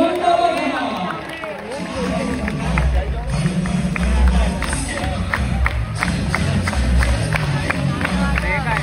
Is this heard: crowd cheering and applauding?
yes